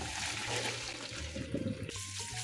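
Cooked ramen noodles are drained, their hot water rushing and splashing into a sink in a loud, steady pour that cuts off near the end, leaving a faint trickle.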